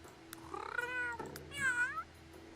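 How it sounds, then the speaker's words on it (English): A deeper cat meow set in the Sims 3 Create-a-Pet editor, two drawn-out meows one after the other, clear and alone. "We'll give him like a deeper meow."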